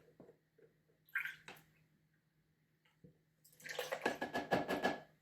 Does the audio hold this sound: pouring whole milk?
yes